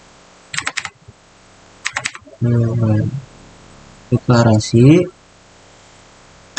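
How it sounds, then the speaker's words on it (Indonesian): Keystrokes on a laptop computer keyboard come in short clustered bursts, interleaved with brief stretches of nearby speech. "Mari kita ketik."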